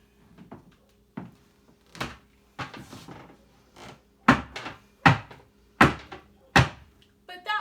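Zapateado jarocho footwork from Veracruz, Mexico: a dancer's shoes stomp a wooden surface in a steady four-count pulse, sharp close percussive hits that grow louder toward the end, with no voices between them.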